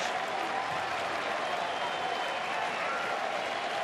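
Baseball stadium crowd at a Detroit at Texas game standing and applauding, a steady, dense wash of clapping and cheering from a large audience that holds evenly throughout.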